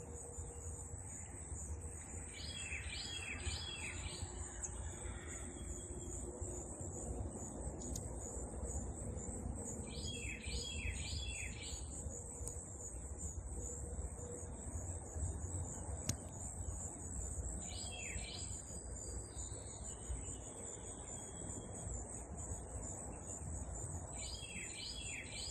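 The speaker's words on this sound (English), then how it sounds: "birds chirping" Birds chirping at sunrise on an early Indiana morning, with short bursts of rapid high trills repeating every few seconds over a constant high insect-like whine and a soft, quiet background.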